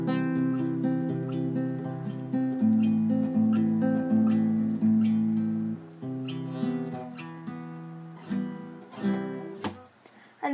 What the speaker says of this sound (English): And that is how to fingerpick with a guitar.